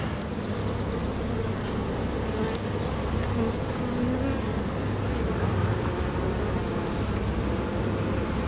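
Honey bees at the hive, during a live waggle dance: a dense, continuous buzz of many insects, steady and fairly close, with no talking.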